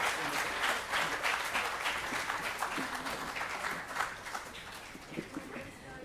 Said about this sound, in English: Please give them a round of applause as they leave the stage for the moment.